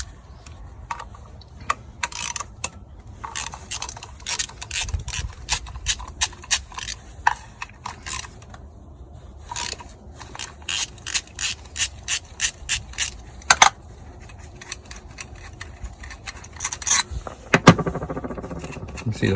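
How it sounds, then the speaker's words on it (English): A ratchet backs out Torx 30 coil pack screws on a Vauxhall Corsa D, a rapid run of close, sharp clicking bursts in short irregular spells, with a voice speaking in between. "So there's two Torx 30 screws that you need to remove."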